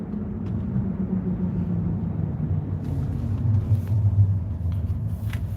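A car interior during a ride carries a low, steady road rumble and engine drone that swells slightly toward the end, with faint rattles and no clear talk.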